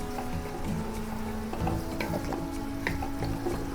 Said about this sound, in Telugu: ఇవి రెండు వేసుకొని మంచిగా కలుపుతుంది